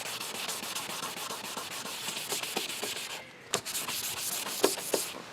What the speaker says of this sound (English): And we're gonna keep sanding.